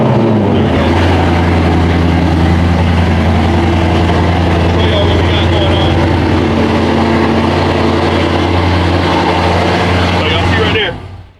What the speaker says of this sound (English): I'm gonna go ahead and give y'all the cold start.